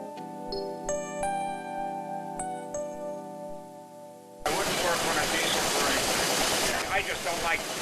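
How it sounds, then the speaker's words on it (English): An old steam engine runs in the engine room of the steamship Virginia V. A steady tonal hum with faint clicks gives way abruptly to a loud, continuous roaring hiss of steam and machinery. "This is steam engine."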